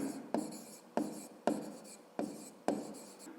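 A pen scratches out math work on paper in five quick, separate strokes, each a sharp start that trails off, close and quiet.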